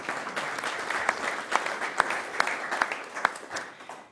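Audience applause for Senator Shaheen at an energy efficiency policy event, sustained clapping with a few sharp individual claps standing out, gradually thinning toward the end.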